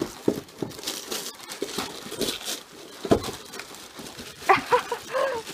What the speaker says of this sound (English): ready, set, unwrap!